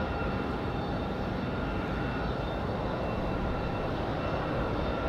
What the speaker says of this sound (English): A couple of CRJs finally coming down the hill after sitting in the box for a while.